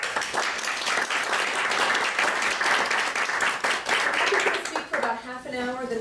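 Audience at a space law and human rights lecture applauding to welcome a speaker, dense steady clapping from a full room, followed near the end by a voice starting to speak.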